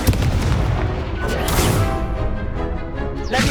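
Incendio fire spells cast in Hogwarts Legacy erupt as loud, close whooshing bursts of flame with booming impacts, one after another over a few seconds.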